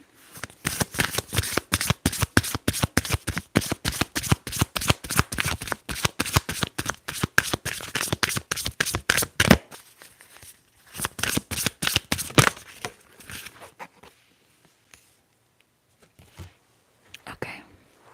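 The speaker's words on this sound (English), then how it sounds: "So let's shuffle and see what I should get." Tarot deck shuffled in a quiet room, dense rapid card riffles snapping in a steady run for about ten seconds, then sparser, slower shuffles tapering off, close and intimate.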